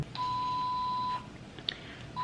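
A single steady electronic beep sounds for about a second, followed by a quieter short blip, in a hushed hospital labor and delivery room.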